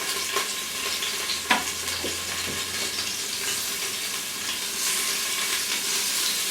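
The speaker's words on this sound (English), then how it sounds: "It's hot. It's sizzling." Beef slices sizzling in a hot Instant Pot, a steady soft frying hiss with a few faint clicks and taps of pieces being laid in, no talking.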